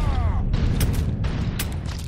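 A pistol being reloaded in the video game Mafia 3, with a couple of crisp mechanical clicks over a low rumbling game background.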